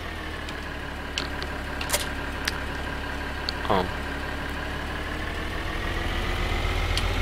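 A steady, loud engine drone idles continuously, a tractor in the video game Farming Simulator 2013, with faint clicks over it and a brief voice in the middle.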